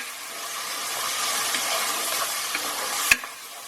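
Blended onions hitting a hot pan of mutton (goat) curry, giving a steady close sizzle with faint stirring scrapes and one sharp clink near the end.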